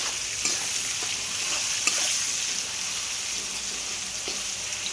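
Onions with salt fry in a pan for chicken curry, giving a steady, close hiss of sizzling oil with a few light clicks from stirring.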